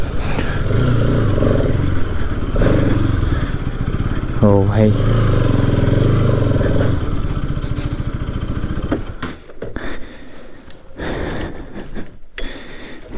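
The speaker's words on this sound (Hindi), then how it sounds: "यार यहाँ से बाइक को स्टार्ट करते हैं यार" A motorcycle being started and ridden, its engine a steady, loud chugging drone with a brief rising rev partway through. It fades into clattering and scraping as someone speaks briefly over it.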